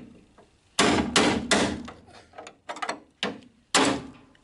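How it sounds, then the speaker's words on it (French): A bevelled chisel is hammered against a car body, giving a series of loud, ringing metallic blows close by, some single and some in quick clusters, with brief scraping between them. "je vais utiliser un burin taillé en biseau comme ça"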